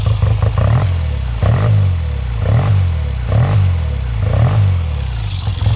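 A 1970 Triumph 650cc Tiger Special parallel-twin motorcycle engine runs close by, loud and steady, with repeated throttle blips swelling and falling about once a second.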